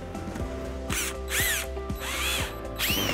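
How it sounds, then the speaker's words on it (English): A power drill driving pocket hole screws into the underside of a wooden farmhouse bench: several short, loud whirring bursts with ratcheting clicks, close up and without speech. "we're going to add our pocket hole screws on the underside of this table bench"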